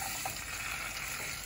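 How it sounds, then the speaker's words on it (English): Seasoned veggie meat sizzles steadily in a hot pan while frying for a vegetarian Guyanese pepperpot, a close, continuous hiss with no talk. "You hear that sizzle?"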